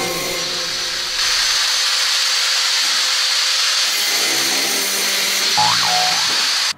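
Steady, loud sawing through a carbon Guang Yu 4U badminton racket frame and T-joint, with a buzzing power-tool whine, continuous throughout, with a brief springy twang near the end.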